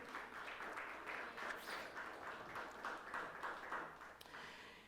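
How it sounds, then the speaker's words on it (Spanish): Church congregation applauding together, a faint, distant wash of clapping in uneven pulsing swells that fade slightly toward the end, with no voices over it. "Dele un fuerte aplauso al Señor."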